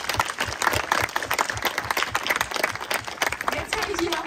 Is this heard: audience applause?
yes